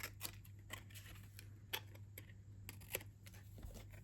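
Scissors snip off a paper overhang on a diagonal lidded Halloween treat box, a series of short crisp cuts close up in a quiet room with a low steady hum beneath.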